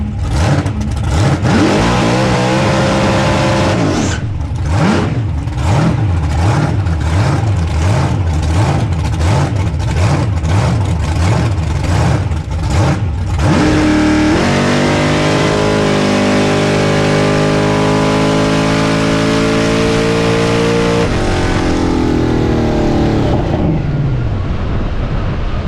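A drag racing truck roars down the track on a fast pass, its loud engine revving hard through rising gear changes and then fading, with no talk over it.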